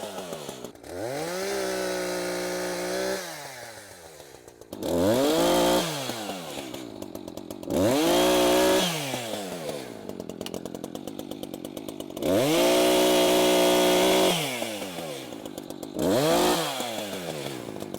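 A chainsaw cuts up salvaged wood for firewood outdoors, revving hard through four or five loud cuts, each a steady high whine that falls back to a rough idle between passes.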